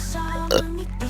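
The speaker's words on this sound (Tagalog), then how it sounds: "Sinisinok ako, pasensya na." A single sharp hiccup bursts out in the middle of a steady background hum, from someone touring Fortune Island, a scenic beach spot.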